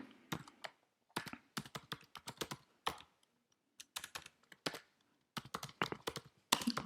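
Quick bursts of clicky computer keyboard typing at close range with short pauses between runs of keystrokes, ending in a slightly heavier key press, with no talking.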